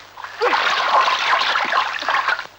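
A person dunks and splashes in water: continuous, close splashing and sloshing with busy, irregular bursts across the whole stretch.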